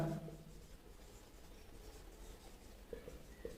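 A pen writes on paper with faint, soft scratching strokes close by, very quiet against low background hiss, with no talking.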